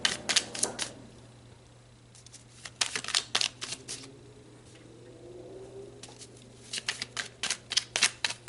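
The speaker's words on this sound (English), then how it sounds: "let's pull some more cards" Tarot cards being shuffled and pulled, giving bursts of crisp riffling and flicking in three clusters separated by quieter pauses, close and fairly faint with no talking.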